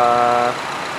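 A car engine, just started with the air conditioning off, gives a strong steady harmonic hum for about half a second and then settles into a quieter, rougher idle rumble, heard close with no talking.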